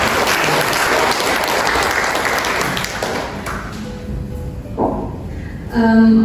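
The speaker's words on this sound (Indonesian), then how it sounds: "Boleh nggak kasih tepuk tangannya dulu?" Audience applause at a gathering, a dense crowd clapping loudly for several seconds before thinning out and fading, followed by a short tonal sound at the end.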